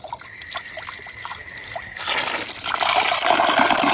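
A tap in a camper van trickles softly at first, then gushes into a louder, steady hiss of running water that holds to the end.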